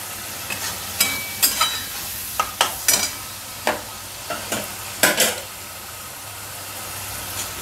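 Fish frying in a pan with turmeric, giving scattered sharp crackles and spits over a low steady hiss, close and moderately loud, with no talking.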